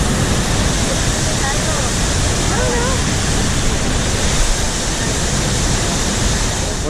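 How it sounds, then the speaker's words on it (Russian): Gunung waterfall in Bali roaring steadily as a loud, unbroken wash of falling water, close and constant, with faint voices barely present beneath it. "Вот такой вот он водопад Гунунга."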